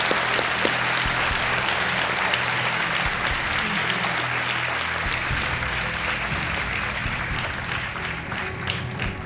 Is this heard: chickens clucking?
no